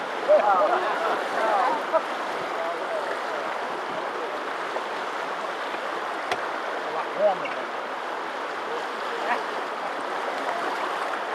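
A steady, loud rush of the Athabasca River's flowing water fills the scene continuously, broadband and close, with no breaks.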